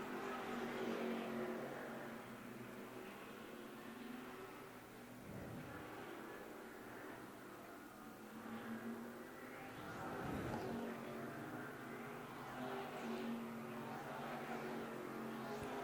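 Sunoco Modified race cars speed around the Thompson oval, a steady engine roar with a couple of louder swells as cars pass closer, continuous throughout.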